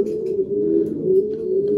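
Racing pigeons at a loft coo in a low, steady, overlapping drone, close and fairly loud, with faint brief chirps above it and no talking.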